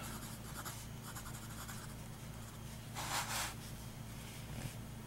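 A custom Beacon fountain pen with a medium nib scratches softly across paper in steady strokes, with one slightly louder passage midway, all faint and close over a constant low hum.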